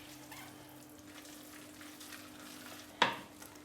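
Salt cod and chopped parsley are stirred into buñuelo fritter batter in a bowl, giving a soft, quiet mixing texture over a low hum, broken by one sharp clack of the utensil near the end.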